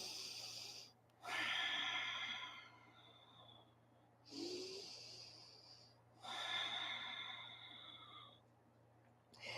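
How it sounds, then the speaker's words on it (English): Long, deep nasal breaths during a Kundalini yoga stretch, heard close and quiet, with four slow inhale and exhale cycles separated by brief pauses. "it's long, deep breathing here"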